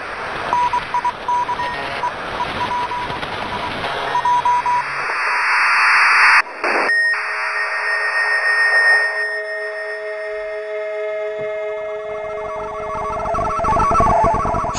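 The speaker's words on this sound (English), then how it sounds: "I hear an SOS, maybe?" A radio signal in the video game Antenna crackles with static and steady electronic tones, shifting as the tuning changes, with sustained beeping pitches standing out over hiss in the later part and no talk.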